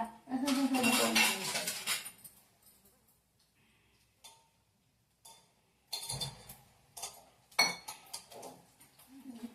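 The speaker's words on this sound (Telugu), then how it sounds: "మేమైతే అన్ని మిక్స్ చేస్తున్నాం" Banana bonda batter being mixed in a bowl, with a spoon clinking against the dish in a loud burst at first, then a quiet stretch and several more sharp scraping taps near the end.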